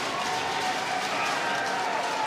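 A lacrosse crowd at Klockner Stadium during a Virginia vs Notre Dame NCAA men's game rises with broad cheering and applause, a sustained roar of many voices under energetic commentary.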